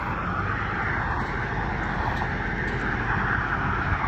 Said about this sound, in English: Oh wait, the tractor might be here.